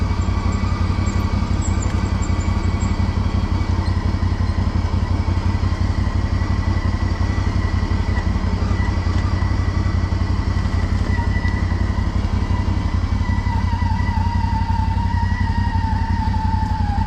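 A CFMOTO 800 XC motorcycle hums steadily through a long ride, its engine drone and wind rush continuous and close with only slight shifts in pitch.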